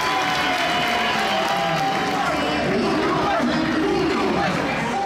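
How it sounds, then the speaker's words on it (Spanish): A stadium crowd roars for Cavani at a Boca versus San Lorenzo football match, sustained applause and cheering with loud chanting voices, while a commentator talks over the din. "¡Y ovación para Cavani!"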